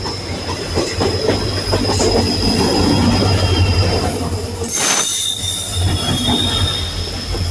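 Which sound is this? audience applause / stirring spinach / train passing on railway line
train passing on railway line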